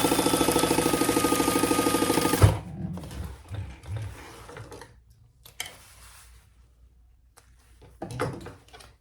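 A sewing machine stitches the bottom of a sling lining, a fast steady mechanical rattle for about two seconds that stops abruptly, followed by quiet handling of fabric and faint clicks.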